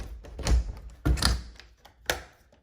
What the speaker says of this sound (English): let's see if we can get this locked.